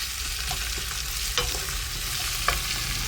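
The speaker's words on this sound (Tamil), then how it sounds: "வெங்காயம் நல்லா வதங்கிடுச்சு" Onions sauté in a pan for vendakkai kara kulambu, a steady close sizzle broken by a few scraping stirs of the spoon, with no talking.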